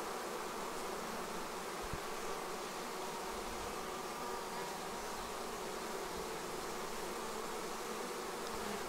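A honeybee swarm crowds the front of a hive after installation, producing a dense, steady buzzing drone that stays close and unbroken throughout.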